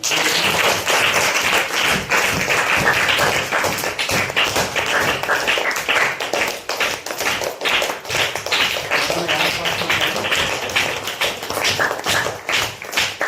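Schoolchildren in a classroom science activity clapping in a steady rhythm, many fast, sharp claps repeated throughout at close range, with faint voices in the background.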